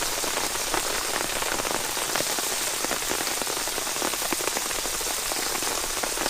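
Rain pours steadily onto a sagging tarp at a bush camp, a dense, even hiss of patter with countless small drops close by, unbroken throughout.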